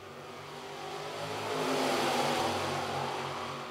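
Sportsman race cars in a heat race at Lancaster Motor Speedway, several engines roaring together and swelling louder as they pass close by, a continuous revving drone.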